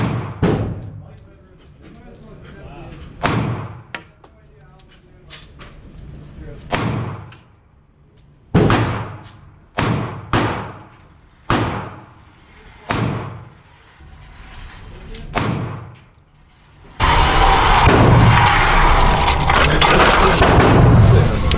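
A Springfield Armory Hellcat pistol fired at an outdoor range, about a dozen sharp, loud shots spaced irregularly a second or two apart, followed by a steady burst of broadband noise.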